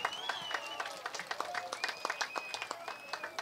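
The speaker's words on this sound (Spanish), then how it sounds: "Entonces, un aplauso." An audience claps at a rural peasant festival in the corregimiento El Pescado, a scattered patter of hand claps, fairly faint, with voices and crowd chatter mixed in.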